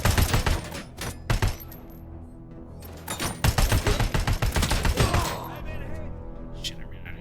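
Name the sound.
gunfire in video game Robocop: Rogue City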